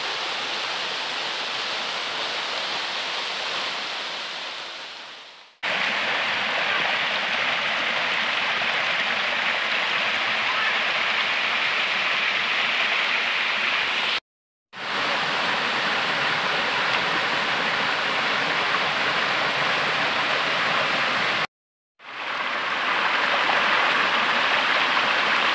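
Water drops 8 to 10 metres from a rock ledge into a grotto in Cherkasay gorge, making a loud, steady, close rushing roar broken by two brief silent cuts.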